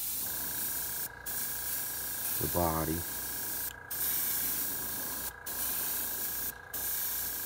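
An airbrush sprays paint onto a fishing lure, hissing steadily in close bursts with short pauses between sprays; a voice speaks briefly partway through.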